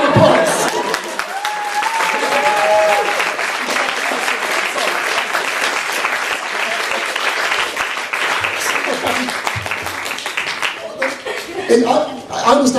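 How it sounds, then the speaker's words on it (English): A theatre audience applauds the actors after a comedy performance, a dense, sustained wash of clapping with some laughter and voices mixed in, thinning out toward the end. "give our actors a big round of applause"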